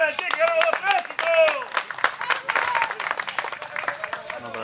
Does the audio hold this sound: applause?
yes